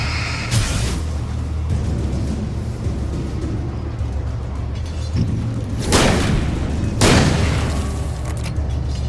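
A flare fired in the video game Alan Wake gives two loud, broad bursts near the end, over a constant low rumbling game background.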